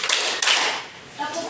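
Hand clapping in a classroom as a teacher leads a counted clap exercise, with a few sharp claps at the start and middle over a noisy room, voices talking alongside.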